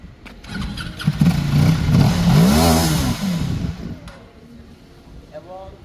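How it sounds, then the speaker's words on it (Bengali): A 400cc motorcycle's exhaust rumbles loudly and revs up and down, with rising and falling engine tones, before easing off near the end while a voice briefly talks over it. "400 সিসির বাইকটির সাউন্ড"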